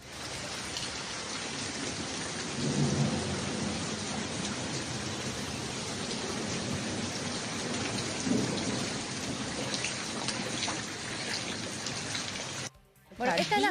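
Steady heavy rain pours over a flooding school while thunder rolls in low rumbles at intervals, the wash of rain dense and constant, with a brief dropout near the end.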